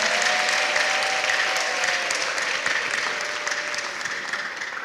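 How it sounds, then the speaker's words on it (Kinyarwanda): Sustained applause fills a church as the congregation claps for Jesus, steady and full at first and then tapering slightly, with a thin sustained tone audible in the opening seconds. "Nimwongere muyakome cyane"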